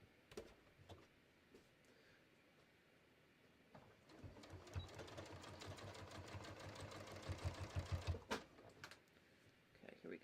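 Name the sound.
sewing machine sewing a collar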